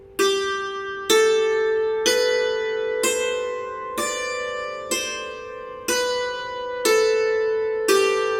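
Nine bright, ringing metallic strikes on dulcimer strings with bare hammers, evenly spaced about a second apart, each with a sharp attack and sustained shimmering decay.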